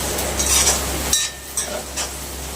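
Spices, red chili powder and green chili roasting in a pan, a dense sizzling hiss with light stirring scrapes, then a sudden drop to quieter frying with a few utensil taps.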